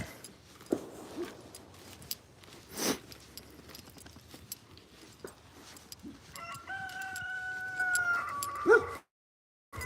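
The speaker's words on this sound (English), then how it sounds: "That's the chicken coop." A rooster crows and chickens cluck around a coop on a rural property, moderately close, with scattered knocks and rustles throughout and no speech.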